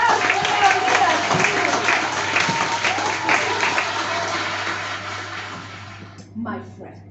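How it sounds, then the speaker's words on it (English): An audience at a newspaper theatre performance in Greece claps for a contestant, a full, sustained round of applause that gradually fades away, with a few voices heard at the end. "Applause for Leonidas."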